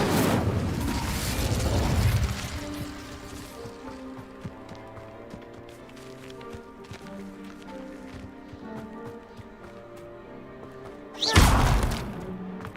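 An Incendio fire spell cast in Hogwarts Legacy bursts out as a loud, roaring whoosh for about two seconds, then quiet game music plays until a second short, sharp fiery blast near the end.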